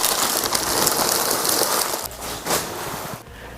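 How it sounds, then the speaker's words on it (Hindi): Plastic wrapper pulled off a new Mi Air Purifier 3 during unboxing, a dense, close crinkling and rustling that runs steadily for a few seconds before easing off. "तो फटाफट से यार इसके रैपर को उतार लेते हैं।"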